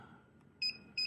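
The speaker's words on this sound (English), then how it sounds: "It's beeping." An EEPROM programmer working on a BMW CAS3 module gives two short, sharp electronic beeps in quick succession over a quiet background.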